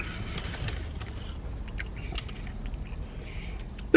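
Close, quiet chewing of a Subway chicken nacho sandwich with red onion, soft crunches and wet mouth sounds repeating steadily, with a louder bump at the very end.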